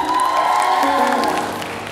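Applause and light cheering from a concert audience at a live show in a shopping mall, a dense steady wash of clapping that eases off slightly over two seconds, with a singer's voice over it.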